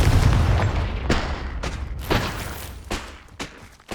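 A Confringo explosive spell goes off in Hogwarts Legacy: a loud, booming blast that fades, followed by a few smaller thuds and cracks.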